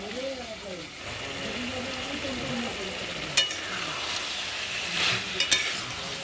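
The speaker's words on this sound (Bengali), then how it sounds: "নেড়ে চেড়ে পাঁচ থেকে ছয় মিনিট সময় নিয়ে খুব ভালোভাবে কষিয়ে নেব" Onions cook in a karahi and are stirred for several minutes, giving a continuous soft sizzle with a few scraping stirs and clinks, while a person talks over the first part.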